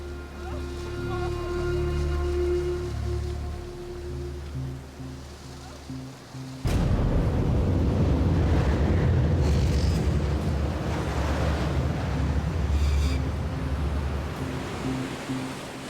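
Stormy Pacific Ocean seas around a family's sailboat, a broad roaring wash of waves that surges suddenly louder midway and stays heavy and close, following a stretch of low droning tones.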